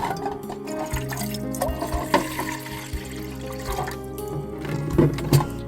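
Water pours steadily into a cooking pot at a rainy camp site, a continuous splashing gurgle that shifts in pitch as the pot fills, heard up close.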